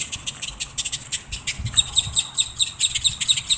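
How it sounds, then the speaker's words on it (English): Grackles calling while dive-bombing, with loud, dense, repeated chirps and squawks close by in a rapid overlapping chorus and no speech. "these birds start dive bombing you all of a sudden"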